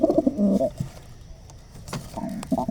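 Pet pigeons kept by a young hobbyist coo in low throaty bursts close by, two rounds of cooing separated by a quieter stretch of soft rustling.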